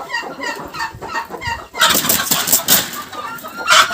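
Broody hens and a turkey hen clucking nearby: soft, low clucks at first, then a louder, busier stretch of clucking and rustling close by.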